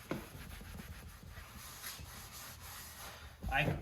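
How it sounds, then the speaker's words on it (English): A clean, dry microfiber cloth buffing synthetic leather car seats, soft repeated rubbing strokes close by with a louder swipe at the end. "take a clean, dry microfiber and just buff them"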